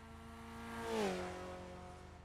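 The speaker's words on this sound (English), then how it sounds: "I hope you can hear me over the engine there" A race car engine in the iRacing sim revs steadily, its pitch swelling and then sliding down as it peaks around the middle, a continuous loud drone with no talking.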